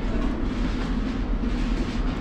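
A train rumbles steadily nearby at a station in Kazan, Tatarstan, a low continuous rolling drone with a faint rhythmic rattle.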